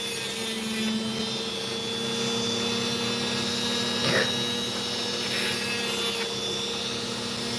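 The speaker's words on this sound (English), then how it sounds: "I cut an opal." An opal is cut on a lapidary saw, producing a continuous close grinding whine with steady humming tones and a brief louder scrape partway through, with no voices.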